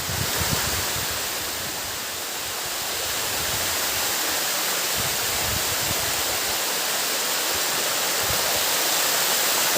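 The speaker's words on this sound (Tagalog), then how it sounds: "nandito tayo sa taas ng Bicibis Falls" Bisibis Falls roars as a steady, dense wash of falling water heard from the top of the falls, constant and enveloping with no other sounds.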